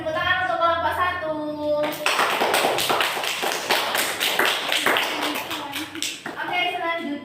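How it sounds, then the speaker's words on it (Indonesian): A classroom of children applauds a student group, breaking into a burst of rapid, loud clapping that lasts several seconds, with voices speaking just before and after it. "beri tepuk tangan untuk kelompok 1"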